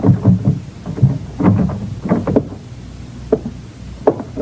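A door being tried and opened in a radio drama sound effect, heard as a series of close rattles, clicks and creaks of the latch and hinges spread over a few seconds, with no talk.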